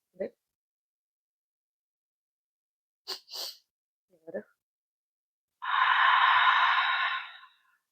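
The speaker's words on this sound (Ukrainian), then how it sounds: "Вдих, видих." A single long, steady exhale during a calming breathing exercise, broad and airy, following a few short breathy sounds and sniffs; no talking.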